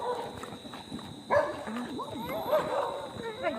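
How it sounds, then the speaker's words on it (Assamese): Dogs bark on a crowded street in Golaghat, Assam, during the early-morning Mahalaya walk, a few yips and barks rising over steady talk and crowd noise nearby. "কুকুৰগাল চব এইটো আহিছে"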